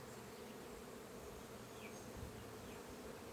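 Steady, dense buzzing of many honeybees fills the air continuously, a close, humming drone with no voices, at beehives.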